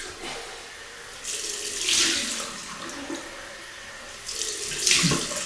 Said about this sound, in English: Right, cold water rinse.